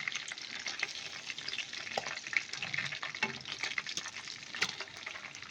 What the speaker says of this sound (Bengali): ওগুলো ফ্রাই করে নেব।